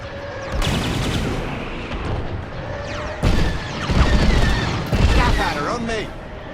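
Blaster fire striking a starfighter in Star Wars: Squadrons, rapid bursts of zapping shots and impact booms over a steady engine roar, loud and close, with voices calling out.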